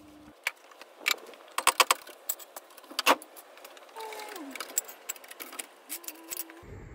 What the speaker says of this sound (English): I'm just refitting the belly pan, and then we can remove the car off of the jack stands.